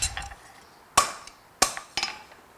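A hammer strikes hot iron on an anvil while a nail is being forged, three or four sharp ringing blows with clinking decays, close and isolated against a quiet background.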